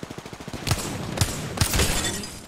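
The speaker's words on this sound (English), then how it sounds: "I'm taking shots." Gunfire in the Apex Legends battle royale game, Season 15 ranked duos: a rapid burst of evenly spaced shots opens, followed by several louder, heavier cracks spread over a couple of seconds, close and dominant with no talk.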